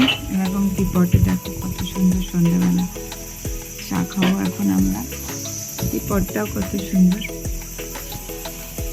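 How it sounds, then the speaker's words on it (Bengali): Crickets chirp steadily at dusk around a homestay in the tea garden jungle of Tabakoshi, North Bengal, a constant high trill beneath people chatting nearby over tea. "ঝিঝি পোকা ডাকছে।"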